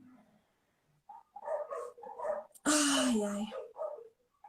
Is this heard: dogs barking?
yes